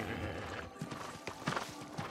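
Horse hooves clopping in the video game New World, a few uneven steps with a faint whinny-like tone, fairly close over a steady ambient game background with no talking.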